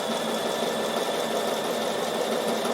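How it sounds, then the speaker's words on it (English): A Bernina sewing machine runs steadily, stitching fabric with a continuous, even mechanical whir and a rapid needle patter, close up and with no talking. "so I'm just sewing down"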